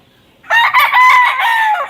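A rooster crows once, loud and close, a full cock-a-doodle-doo rising after a brief quiet start and holding to the end, with no talk over it.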